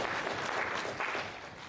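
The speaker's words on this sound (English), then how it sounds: "You can applaud too, huh?" An audience applauds at a commemorative gathering marking the World Uyghur Congress's 20th anniversary, a steady, dense wash of clapping from a crowd that thins slightly toward the end, with no talking over it.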